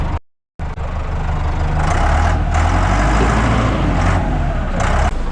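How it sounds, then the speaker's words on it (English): A 1979 Ford F-250 with the 300 six-cylinder engine rumbles loudly and steadily while its bumper is torn off, with rough bursts of scraping, tearing metal rising over the heavy engine drone after a brief dropout at the start. "Oh, there goes the bumper."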